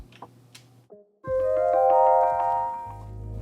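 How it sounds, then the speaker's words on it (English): Glitchy, warbling artifacts from noise removal misapplied to a sample in FL Studio: a short choppy burst, then a sustained metallic tonal drone with shifting pitches and a low rumble underneath. "remove random stuff from the sample and often get these really cool artifacts and glitchy sounds out of it"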